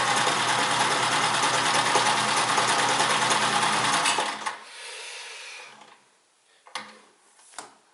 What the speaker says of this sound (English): I'm going to lengthen the stitch on that just to make it a little bit, emphasize what it's doing a little bit more.